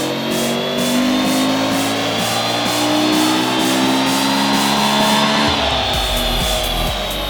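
A car making roughly 173 to 176 kilowatts at the wheels on a dynamometer revs hard with a loud, steadily climbing engine note, then drops off sharply near the end, with no talk.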